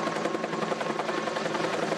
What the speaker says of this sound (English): This helicopter is transferring 850 kilogram sandbags to hold down a tarp.